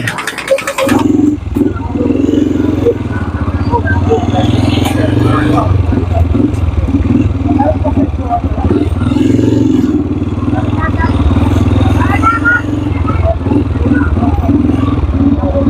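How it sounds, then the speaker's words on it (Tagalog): A loud, rough engine of an old, overheating motorcycle runs steadily throughout, sputtering and clattering unevenly with faint voices mixed in. "Dahil luma na yung ating motor, nag-overheat na."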